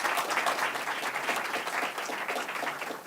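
Applause from the audience at a health policy panel event, a steady, even wash of many hands clapping that carries on without a break at moderate distance.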